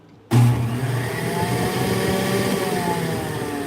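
A juicer motor suddenly switches on and settles into a loud, steady whirring drone with a high mechanical whine, running continuously without pause.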